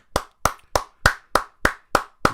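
Eight sharp hand claps ring out one after another at an even, steady pace, each loud and close with a quick decay, with no voices in between.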